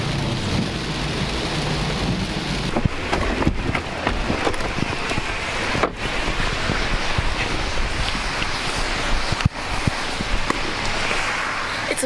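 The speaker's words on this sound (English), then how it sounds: "it is raining and thundering out here like crazy" Heavy outdoor rain pours steadily with rumbling thunder rolling through a thunderstorm, punctuated by a few sharp cracks, loud and continuous with no voices.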